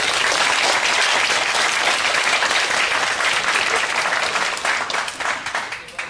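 An audience at a schools debating tournament quarter-final applauds the two teams, a full round of clapping that stays strong for several seconds and then thins out and fades toward the end.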